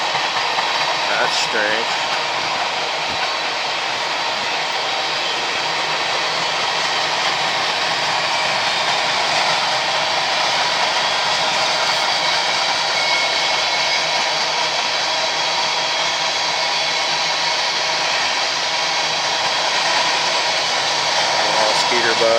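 An empty BNSF coal train pulled by three AC locomotives passes along the Yellowstone River after sunset. It makes a loud, continuous broadband rumble and roar that holds steady throughout, and a voice briefly speaks.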